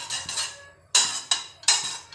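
A metal spoon clinks sharply against a kadhai three times while ghee is added for mango barfi, each strike ringing briefly before fading, with no talking.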